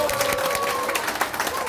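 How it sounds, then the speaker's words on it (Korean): Audience applause at a year-end gathering after a lecture, a steady wash of clapping from a crowded room that runs through the whole short stretch at moderate loudness. "뜨거운 박수로 다시 한번"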